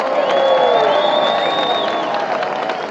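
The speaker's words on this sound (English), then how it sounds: "Big massive round of applause for Pastor Phil" A large outdoor rally crowd cheering and applauding for a pastor, a loud, dense roar of voices with whoops and a rising whistle-like tone over the top, sustained throughout.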